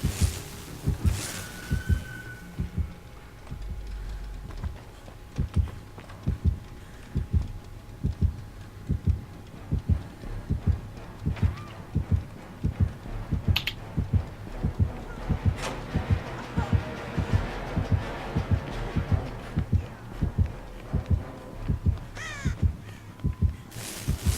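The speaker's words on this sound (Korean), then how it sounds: "심장 소리 들려." A steady, regular heartbeat from a video game thumps in a low, evenly spaced pulse throughout, with occasional game effects and a few bursts of voice chat over it.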